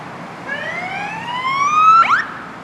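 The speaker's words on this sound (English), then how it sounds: "Yeah, that's an ambulance." An ambulance siren on a street in Newport, rising in a steady upward sweep and growing louder as it draws nearer, alone without talk.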